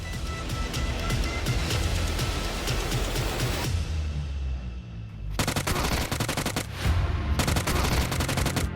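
Rapid automatic gunfire from the PUBG video game, dense crackling bursts with a short lull partway through, then renewed sharp volleys, loud and continuous with no talk.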